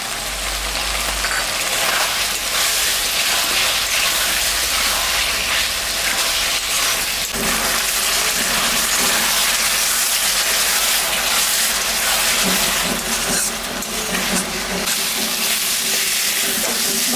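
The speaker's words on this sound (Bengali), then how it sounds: "মশলাটা আর একটু ভাজা হবে।" Spice paste with salt, turmeric, green chilies and tomato frying in a pan for rohu fish curry, a loud continuous sizzle broken by scraping stirs, with no voices.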